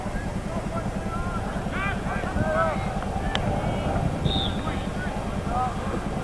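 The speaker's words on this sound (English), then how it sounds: "Wind is suddenly coming from the west, which is facing us, facing the camera" Wind buffets an outdoor camera microphone at a boys' junior varsity event in a steady, loud, low rumble that runs the whole time, with voices faintly audible underneath.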